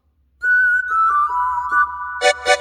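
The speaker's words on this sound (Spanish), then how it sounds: "Luego tenemos ¿qué sonido? Un silbido." A clear, steady whistle sound sample that slides down slightly in pitch partway through and ends with two short, bright whistle bursts.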